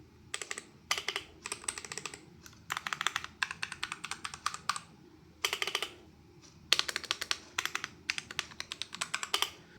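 Typing on a Redragon K688 PRO keyboard fitted with yellow tactile switches, recorded up close: bursts of quick, crisp key clicks in rapid runs separated by brief pauses, with no talking.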